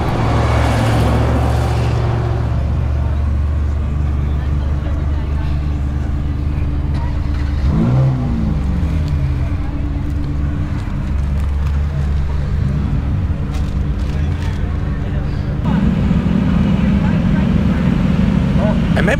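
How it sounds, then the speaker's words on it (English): A procession of roughly twenty to twenty-five Ferrari sports cars led by a motorcycle drives off, a continuous loud engine drone with rising revs and passing swells, while people talk nearby. "A biker dude leading maybe 20, 25 Ferraris."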